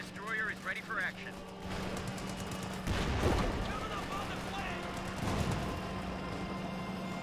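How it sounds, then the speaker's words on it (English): Anti-tank gun and tank cannon fire in Company of Heroes 2 cracks out in heavy bursts, including one loud blast about midway and another later, over a steady battle rumble, with some voice over the start. "AT gun and cannon warfare both here"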